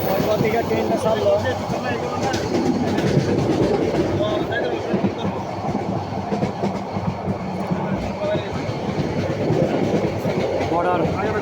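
A train pulls away from a station and rolls along the rails on the route toward Comilla, with a steady rumble and rhythmic clickety-clack heard from on board, while people talk amid the noise.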